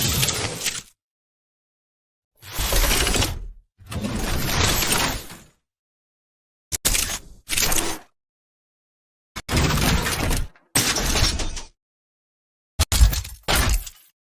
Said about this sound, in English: Here we just needed to abstract the content to fit with the Javelin sounds of servos and mech movements.